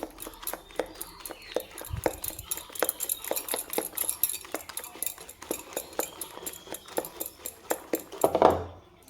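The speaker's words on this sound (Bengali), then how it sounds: "এখানে আমি আরেকটু ফেটিয়ে নিব সুন্দর করে" Batter whisked in a bowl, a fast, regular run of light metallic taps and scrapes, close and crisp, continuing for several seconds with a louder clatter near the end.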